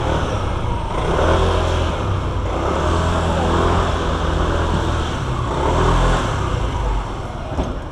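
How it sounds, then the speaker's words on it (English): A loud, close motor engine rumbles and revs continuously, rising and falling in intensity throughout. "It's a nice motorcycle."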